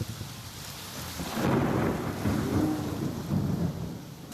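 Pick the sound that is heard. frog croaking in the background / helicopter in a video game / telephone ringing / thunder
thunder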